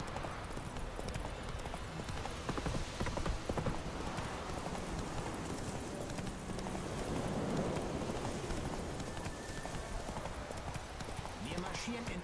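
Horse hooves clip-clopping steadily in the Witcher 3 video game, a constant rhythmic trot heard under game ambience.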